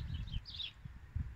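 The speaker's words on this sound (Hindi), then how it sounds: "परिंदों के चहचहाने की आवाज़ बहुत हसीन लग रही है" Birds chirp faintly and briefly in the distance during an evening walk along a river in Frankfurt, Germany, their short high calls sitting above a low outdoor rumble.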